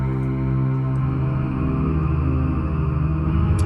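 A granular ambient synth pad patch from the AIRWAVE Vol 1 sound library, a dense sustained low drone with a slowly shifting, grainy texture that holds steady and loud throughout, with no voices.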